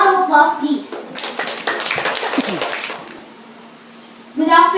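Classroom audience applauding a student debater introduced as the second speaker of the proposition team, a dense patter of hand claps lasting about three seconds between bursts of talk at start and end.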